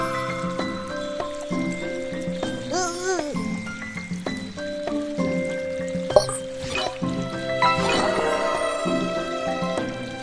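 Bright chiming tones and watery trickling blips play over a busy soundtrack in Little Panda's Cat Game, with a short splashy pour of water filling a pet's bowl near the middle.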